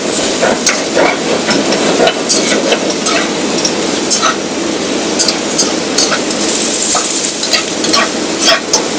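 Beef goulash being stirred in a frying pan, with a steady close sizzle and repeated scraping strokes of the utensil running throughout the clip.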